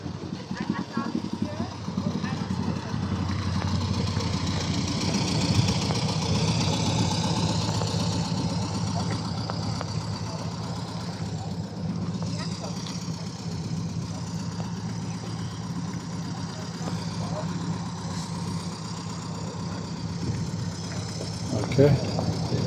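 A 1.3-liter four-cylinder VW Beetle idles at an old-timer car show in Frankfurt, a steady, fairly loud low engine chug lasting throughout, with people talking nearby over the running motor.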